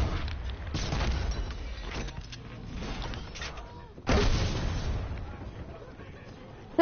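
Cannon fire in a season 8 battle royale video game: repeated heavy booming shots with rumbling low end, a strong blast near the start and another around 4 seconds, loud and close.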